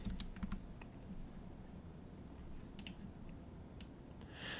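Someone types on a computer keyboard in a quiet room while designing a Photoshop poster, a quick irregular run of soft key clicks and taps, close and fairly faint.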